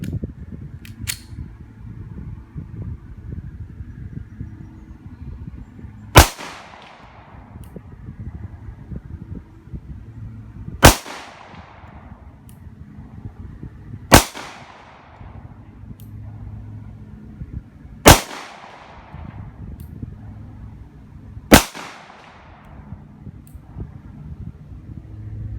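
Five sharp, loud pistol shots from a Springfield Armory XDS .45 ring out at an outdoor range, spaced several seconds apart with echoing tails over a steady background rumble.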